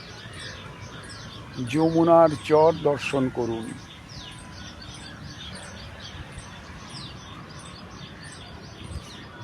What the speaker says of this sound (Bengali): গাছে গাছে পাখির ডাক শোনা যাচ্ছে।